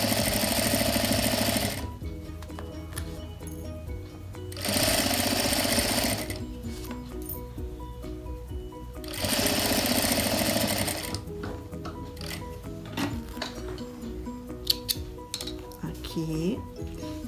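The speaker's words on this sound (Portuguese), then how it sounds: "vou fazer uma costura pé de máquina" A sewing machine stitches a seam on fabric for a folded-bottom toiletry bag, running in three loud bursts of rapid whirring separated by pauses where someone talks, with small clicks near the end.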